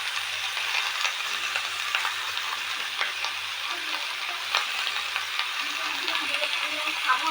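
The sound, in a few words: young jackfruit frying in a pan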